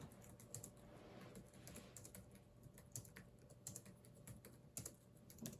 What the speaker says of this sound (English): So what I'm going to do is we'll do a test type.